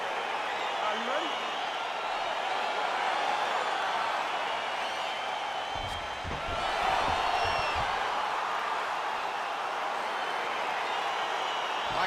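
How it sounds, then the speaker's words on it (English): Steady, dense crowd roar from an arena audience as a UFC 4 video game fight gets underway under referee Dan Miragliotta, holding loud and continuous throughout with a brief dip near the middle. "crowd getting excited as this fight gets underway"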